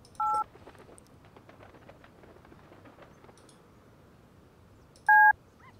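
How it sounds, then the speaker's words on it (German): A video game telephone gives two short electronic rings, one at the start and one near the end, set apart by a long stretch of faint background hum. "Hier klingelt irgendwo das Telefon."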